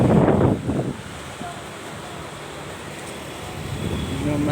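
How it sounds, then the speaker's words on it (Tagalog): Strong typhoon wind in Biñan, Laguna roars in heavy gusts that buffet the microphone, fading to a lower rushing backdrop before building again. "Hangin lang po ang malakas dito."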